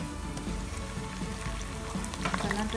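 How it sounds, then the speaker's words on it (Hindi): Garlic and ginger frying in hot oil with browned onions, a steady close sizzle with light crackling throughout. "बस अब मैं इसमें डालूँगी लहसुन अदरक"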